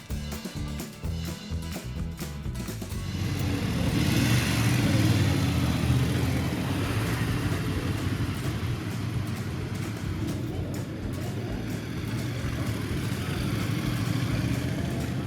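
BMW F750 and 850 GS motorcycles ride into a city's downtown between Malaga and Granada, with a steady engine drone and road rumble that rises after the first few seconds and carries on continuously.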